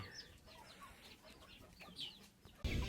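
Chickens cluck steadily near a fish pond in a rural setting, soft repeated calls layered over outdoor ambience, with a sudden louder rush of noise near the end.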